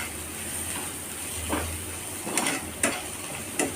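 Puffed rice for murmura chivda roasts in a small kadai, with a soft, low hiss and a few scattered scraping strokes as it is stirred.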